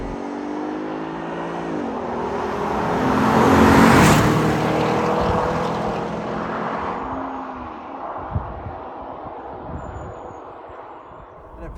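A Porsche Cayenne GTS, a roughly 2.2-ton SUV, accelerates with a steady engine note that climbs and swells to a peak, then settles into a sustained cruise with some road rumble.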